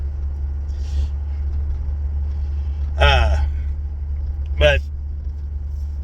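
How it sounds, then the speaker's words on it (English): A pickup truck's engine idles roughly with a steady low rumble throughout, and a voice cuts in briefly twice over it. "the pickup truck is not happy. It is not happy at all."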